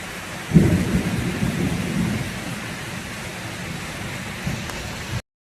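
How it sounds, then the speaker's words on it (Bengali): Heavy rain pours steadily while a deep roll of thunder rumbles in near the start and slowly fades beneath the downpour, the storm filling the whole stretch with no voices. "আর কি জোর বৃষ্টি হচ্ছে দেখতে পাচ্ছ"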